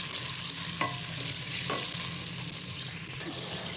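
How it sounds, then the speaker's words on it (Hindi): Oil and ingredients for aloo matar rice sizzle and crackle in a hot pan, with a few brief stirring knocks, a steady close frying hiss throughout and no clear splash of added water. "अब थोड़ा सा हम पानी डालते हैं"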